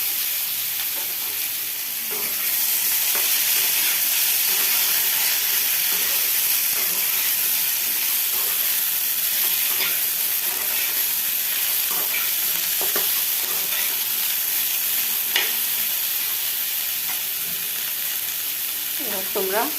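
Chunks of potato, ridge gourd, pointed gourd, sweet potato and green banana fry in hot oil, a loud continuous sizzle broken by occasional stirring clinks and scrapes, close up, with a brief faint voice near the end.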